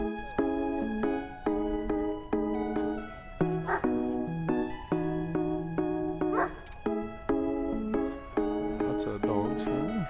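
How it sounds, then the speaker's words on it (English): Dogs at a dog show in Logan, Utah yip, whine and bark in quick repeated bursts close by, a busy, high-pitched chorus that keeps going throughout. "Lots of dogs here."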